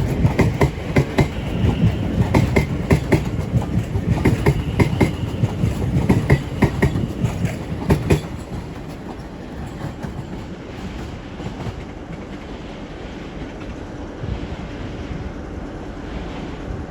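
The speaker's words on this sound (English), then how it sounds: "Line S line service to Watford Junction in a form of 710 378." A London Overground Class 710 electric train on the service to Watford Junction runs past close by, its loud rumble and rhythmic wheel clatter strongest for the first eight seconds before settling into a steadier, quieter rolling drone.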